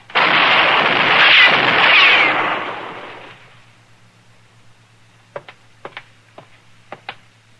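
Gunfire from a 1958 Gunsmoke radio western drama: a long, loud roaring blast that slowly dies away, then a quiet pause and a run of five or six sharp, distant cracks spaced unevenly.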